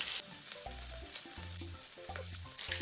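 Mackerel grilling skin side down in a pan for a Japanese nanbanzuke salad, giving a steady close sizzle and fry hiss throughout, with a few soft clinks and scrapes of utensils on top.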